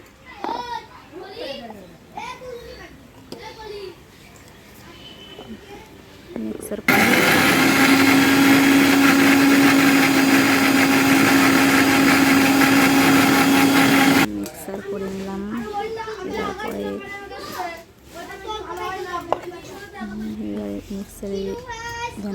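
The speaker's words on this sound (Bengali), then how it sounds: "ধনে পাতা দিয়ে মিক্সারে" A kitchen mixer grinds jujube with coriander leaves and green chilli in a loud, steady whir lasting about seven seconds, framed by someone talking and children's chatter before and after.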